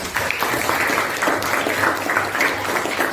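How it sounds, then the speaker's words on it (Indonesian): Classroom applause at a teachers' school dissemination event, a steady patter of many hands clapping at moderate loudness throughout with no break. "kita beri tepuk tangan untuk semuanya"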